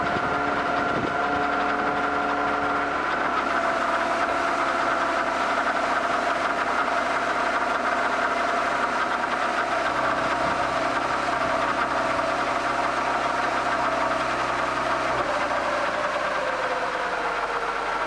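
A BMW E36 engine idles steadily with a knocking, vibrating mechanical hum, running without its mass air flow sensor; the idle holds even and close for the whole stretch, with no voices.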